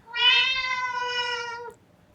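A cat in a horror video game lets out one long, loud, clear meow of nearly two seconds, steady and close, with nothing else around it.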